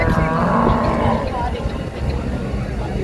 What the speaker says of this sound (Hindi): ये देखो, खांगड़ भैंस है ना, भैंस वैसे ठीक है जी।